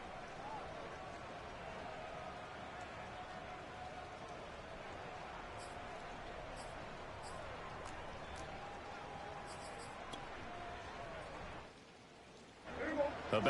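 Steady rain hisses across a football stadium during a night game, a dense constant wash that holds unbroken for most of the stretch before briefly dropping away near the end, with faint crowd texture beneath.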